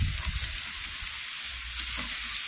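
Marinated pork barbecue skewers sizzle on a hot grill in Canley Vale, Australia, a close, continuous crackling hiss with soft low bumps and no voices.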